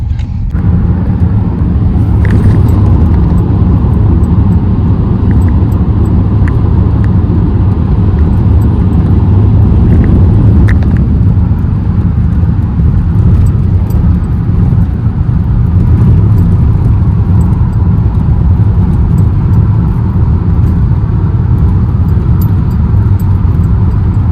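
Car driving on the road into Kamianske, heard from inside the cabin as a steady loud low rumble of engine and road noise that holds throughout, with no talking.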